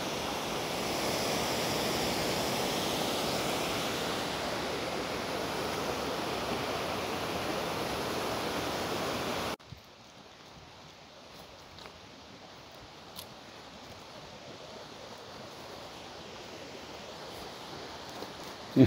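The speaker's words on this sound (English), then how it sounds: "This is when the Milky River's coming off the glaciers on Glacier Peak" Glacier-fed Milky River water rushes loud and steady off Glacier Peak along the Pacific Crest Trail in Washington. It cuts off abruptly halfway through, leaving a quiet, faint outdoor background with a few small clicks.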